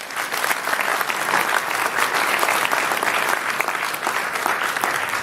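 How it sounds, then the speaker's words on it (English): A campus audience gives a sustained round of applause at a USC basketball coach's talk, a loud, dense clapping that holds steady throughout without any voices over it. "let's give them a nice round of applause"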